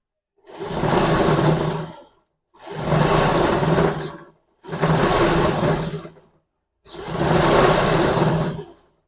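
A sewing machine driven by a brushless, carbon-free motor runs in four separate bursts of about one and a half seconds each, with a smooth whirring drone and short silences between runs.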